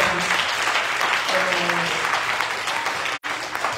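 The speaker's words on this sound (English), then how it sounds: "Put your hands together." A church congregation claps together during a Sunday morning worship service, a dense, steady wash of applause filling the room for several seconds before a brief drop, with voices mixed in beneath the clapping.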